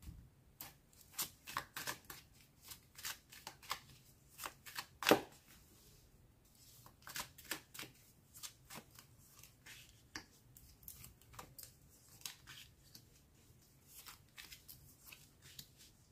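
Tarot cards being shuffled for a reading, a quiet run of crisp riffling and flicking bursts in irregular rhythm, close by and alone, with one sharper snap near the middle.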